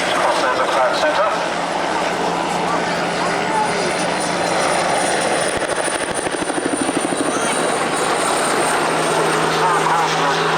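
Bell 47G-3B1 helicopter with a flat-six piston engine flying past at an airshow, a loud, steady rotor and engine drone with rhythmic blade chop building toward the end, under a public-address commentator's voice.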